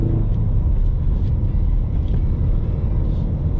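A 2021 Ford Mustang with the 2.3-liter engine and six-speed manual, heard from inside while driving: a steady, loud low engine rumble with road drone, no talk.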